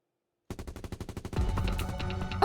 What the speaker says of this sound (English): My body trembled at the sound of gunfire echoing from afar.